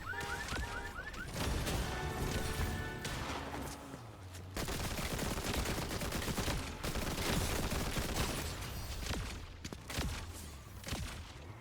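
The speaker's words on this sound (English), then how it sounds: "Because they're shooting at each other and he's laying shots on them." Dense, continuous automatic gunfire rattles from NPCs shooting at each other in Fortnite, rapid bursts overlapping almost without pause, loud and close amid game sound effects and faint tonal beeps.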